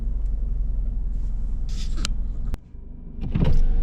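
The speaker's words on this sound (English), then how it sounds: "Windows down." Jaguar F-Type Chequered Flag Edition power windows whir down with a short electric motor hum inside the car over an idling engine rumble, ending in a clunk followed by a louder engine swell.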